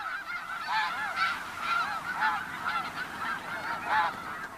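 Many geese honk loudly and repeatedly in the Arctic, overlapping calls in an irregular chorus, close by, with no talking.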